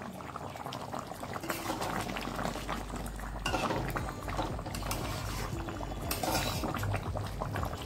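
Mutton curry, rezala style, simmering in a wok: a dense, continuous bubbling and sputtering that stays loud and close throughout, with occasional clinks and no voices.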